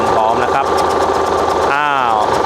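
A Hino A09C 344 hp truck engine idles with a steady throb, then revs upward in a rising whine near the end. Someone talks over the engine.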